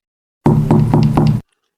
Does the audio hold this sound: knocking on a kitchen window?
yes